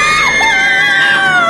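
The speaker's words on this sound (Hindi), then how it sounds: "एक भयानक, कान फाड़ देने वाली चीख गूंजी, जैसे सैकड़ों औरतें एक साथ दर्द से चिल्ला रही हों" A terrifying, ear-splitting scream of many women in pain, loud and continuous, with layered high wailing voices that rise and waver together for the whole moment, in a horror setting.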